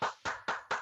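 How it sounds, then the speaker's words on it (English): One person claps during a 2020 football draft show: four crisp hand claps in an even rhythm, close and moderately quiet, with no talking. "Lo, you're clapping"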